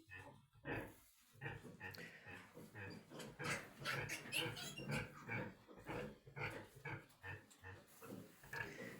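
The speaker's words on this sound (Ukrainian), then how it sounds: "Тут у нас розпочався опорос." A sow farrowing in a farrowing pen makes repeated low grunts and snorts, with piglet squeals mixed in, close by and quiet in a barn, the grunting continuing throughout.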